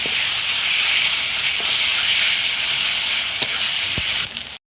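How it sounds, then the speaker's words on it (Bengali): Masala with ginger-garlic paste and tomatoes frying in a pan for a fish biryani, a loud, steady close sizzle with a few faint knocks before it cuts off abruptly. "মশলাটা ভালো করে আমি কষে নেব"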